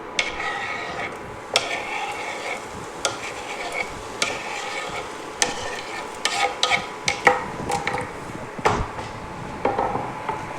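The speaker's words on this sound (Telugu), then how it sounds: "ఇప్పుడు సేమ్ ప్యాన్లో ఈ టమాటో వేసి వేపుకుందాం" Tomatoes fry in the same pan used earlier for a tomato chutney, with steady sizzling under repeated clicking scrapes and knocks of a spoon stirring the pan, close and fairly quiet, no voices.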